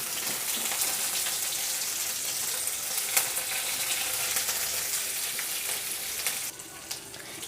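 Dried red chillies and curry leaves crackling in hot oil over a low flame, a constant hissing sizzle with occasional sharp pops, fairly close, with no voices.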